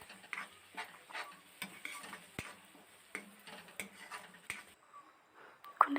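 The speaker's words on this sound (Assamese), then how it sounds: "মই ভালদৰে মছলাখিনিত মিহলি যোৱাকৈ মই মিহলাই লওঁ।" A spoon stirs spices into a mash of elephant foot yam in a pan, producing soft, irregular scraping strokes and light taps at a steady rhythm, close and quiet with faint sizzling underneath.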